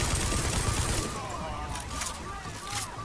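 Gunfire in the video game The Division, a steady burst of shots running through the clip at moderate loudness, with game ambience and talk underneath.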